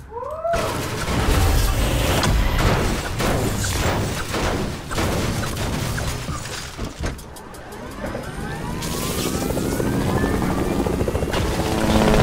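A helicopter in the video game Fortnite roars with thick, continuous rotor and engine noise, loud and close throughout, with a few sharp bangs mixed in and a pitch sweep near the end.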